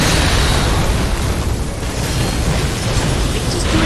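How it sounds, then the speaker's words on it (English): A loud, sustained explosive roar from an enemy's body blowing up in the video game Bloodborne, broadband and dense throughout with a brief dip midway. "He's just doing that body explosion from the fucking get-go now."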